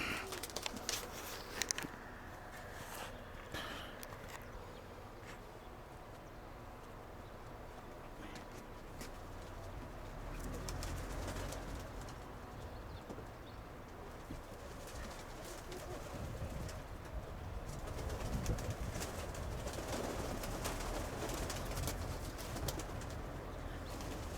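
Pigeons, including Kirovohrad pigeons, coo softly on and off through steady outdoor background noise in the evening, with a brief flutter of wings near the start.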